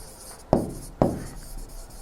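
Handwritten notes during a chemistry lesson on carbohydrates, two distinct scratchy pen strokes on paper roughly half a second apart, close and fairly clear against a quiet background.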